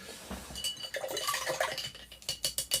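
Paint brush being rinsed in water after painting a model French chateau, quiet close splashing and swishing with light clinks of the brush against a container, ending in a few quick taps.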